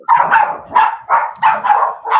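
Dogs bark at someone at the door of a house, about six loud, close barks in a steady, evenly spaced run with nothing else heard.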